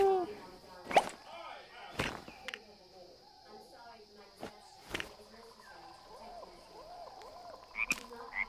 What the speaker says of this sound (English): She's kicking a frog.